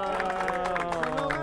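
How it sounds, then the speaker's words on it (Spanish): Crowd applause for the winner of a flounder fishing tournament in Chile, a steady dense clapping wash held at one level for the whole stretch, with a voice audible over it. "¡Aplausos,"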